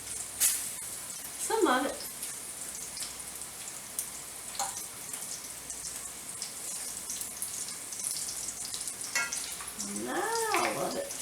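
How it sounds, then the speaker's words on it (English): Bacon sizzling in a pan while pieces are turned over, a steady crackling sizzle broken by a few louder scrapes and clatters, with a person speaking briefly over it. "I can turn over my bacon, some of my bacon."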